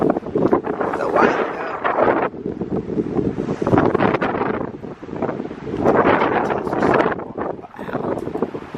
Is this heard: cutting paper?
no